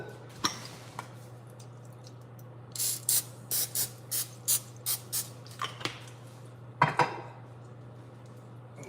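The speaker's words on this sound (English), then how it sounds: "Need a little cook spray here" Cooking spray is sprayed onto a pancake griddle in a series of about eight short, sharp hissing bursts in a quick steady rhythm, close and clear over a low steady hum, with a few clinks around them.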